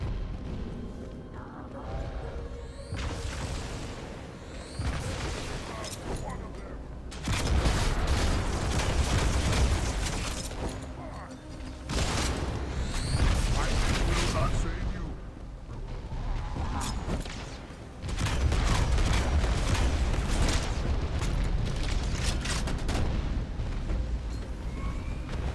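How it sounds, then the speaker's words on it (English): Booming explosion in a Halo Master Chief CGI render, heavy low rumbling bursts recurring across the stretch, loud and sustained with surging blasts, no talking. "The explosion."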